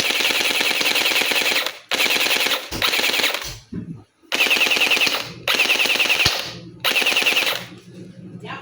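An MCX-style toy gel blaster fires on full auto in long, loud, rapid bursts, four or five sustained strings broken by brief gaps with faint handling clicks between them.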